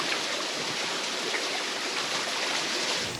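Fresh water stream on a remote island flows in a steady, broadband rush, close and continuous with no voices over it.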